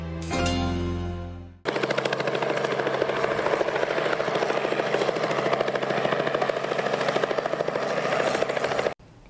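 A helicopter roars close overhead, its rotor chopping in a loud, rapid, steady beat that drowns out everything else before cutting off.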